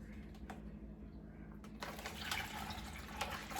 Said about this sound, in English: Now let's pour it in.